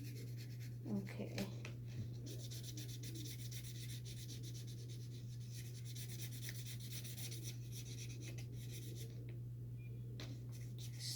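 Paper being folded and creased into a fortune teller, a close soft rustling and rubbing with a few sharper crinkles, steady against a low electrical hum.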